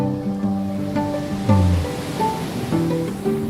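Waves wash onto a beach with a steady surf hiss. Tonal background music plays over the shore sound, and no one speaks.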